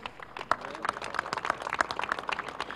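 A crowd applauds at a Chilean firefighters' fire truck handover ceremony in the Atacama region. The clapping is dense and steady, fairly close, and lasts throughout.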